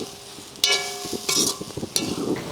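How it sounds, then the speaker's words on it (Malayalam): Grated coconut roasts in a pan on the stove, with a soft sizzle broken by a few bursts of scraping as a spatula stirs it, close up and with no talking. "നമുക്ക് ആദ്യം തേങ്ങ വറുത്തെടുക്കാവേ."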